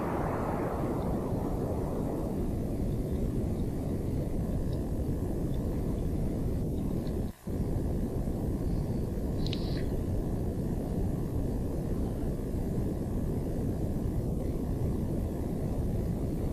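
A rocket engine burn throttling down in Kerbal Space Program, a steady loud broadband roar sustained throughout with no talk, a brief dropout midway and a faint tone near the end.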